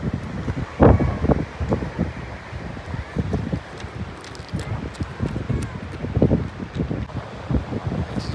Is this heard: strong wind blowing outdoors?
yes